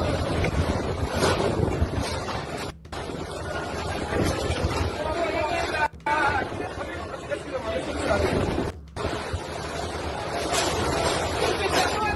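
Strong typhoon wind roars loud and steady, buffeting the microphone with gusty rumble and broadband hiss across the whole stretch, broken by a few abrupt cuts, while a voice speaks over it.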